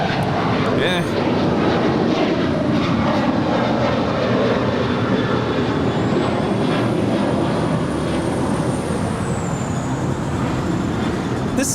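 A United Airlines Boeing 737-800 departing LAX for Seattle gives a loud, broad engine rumble filling the whole stretch outdoors, mixed with traffic-like noise, while people talk over it.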